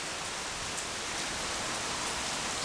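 Steady rain falling outdoors on a rainy day in Jordan, a dense, even hiss of drops on surfaces and grass that holds constant throughout, with no voices.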